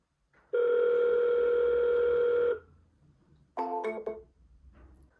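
An outgoing phone call rings unanswered: one long, steady ringback tone plays, then after a pause a second, shorter tone begins, with a quiet room in between.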